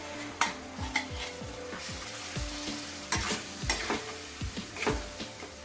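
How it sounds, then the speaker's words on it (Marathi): Ground masala paste roasting in a pan for a village-style chicken masala, with repeated spatula scrapes and clinks against the pan over a low sizzle, close and fairly loud. "सर्व एकत्र करून वाटण छान भाजून घ्यायचं आहे"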